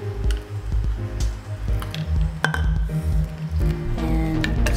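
Mango float mixture with condensed milk being stirred by hand, a steady run of soft squishy scrapes and light clinks against the bowl, close and fairly loud with no talking.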